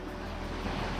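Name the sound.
waterfall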